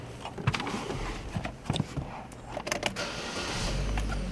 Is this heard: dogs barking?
no